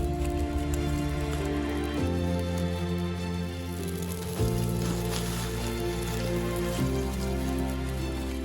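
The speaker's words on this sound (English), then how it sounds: "it's been raining quite a bit last night and it's starting to rain again." Steady rain falls in a wet Canadian bush camp, its soft broadband patter continuous throughout, with a sustained tonal drone shifting pitch every few seconds beneath it.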